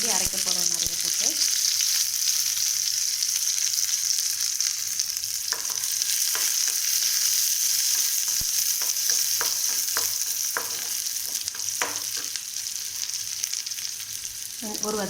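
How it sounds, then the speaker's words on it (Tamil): Mustard seeds and onions fry in hot oil as the base for a simple tomato gravy, giving a steady close sizzle with scattered sharp pops and crackles and no talking. "இப்போ கொஞ்சம் கடுகு, வெங்காயம் கம்மியாக போட்டால் போதும்,"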